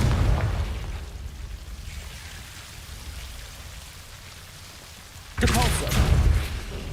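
Confringo fire spell explosions in Hogwarts Legacy, a low rumbling blast that fades into crackling debris, followed by a second sharp, loud burst near the end.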